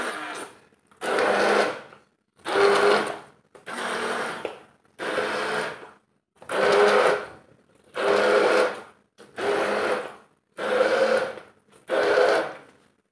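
An electric mixer mixing carrot pudding (gajrela) runs in nine short whirring bursts, each about a second long with brief pauses between, loud and close.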